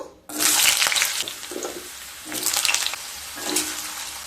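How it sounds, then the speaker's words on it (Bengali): Potatoes dropped into hot oil in a wok, bursts of loud sizzling that flare up and subside in waves with some stirring, close and without talk. "ওই তেলের মধ্যে আলুগুলোকে ভেজে নেব"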